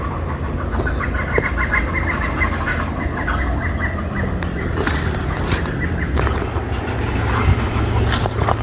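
Ducks quack among other birds near the water by a dinghy, scattered calls over a steady low rumble, with a voice talking quietly now and then.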